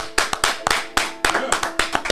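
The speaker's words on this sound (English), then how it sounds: "Let's give Brandon a round of applause, y'all" Small podcast studio group gives a guest a round of applause, a handful of distinct, close claps in an uneven rhythm, sharp and loud with short gaps between bursts.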